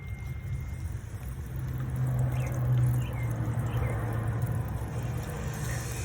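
Coolant drips from the leaking radiator of an old 1996 Chevrolet Suburban. Faint, sparse drips sit under a steady low hum nearby.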